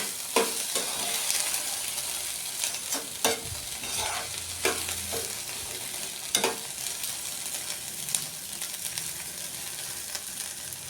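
Chopped tomatoes fry in a hot pan while a spoon stirs them, giving a steady close sizzle broken by repeated scraping knocks against the pan.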